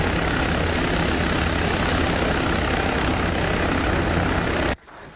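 Military helicopter in the video game Arma 3, a loud steady rotor and engine roar heard close up for nearly five seconds before cutting abruptly to a faint low rumble, with no talk.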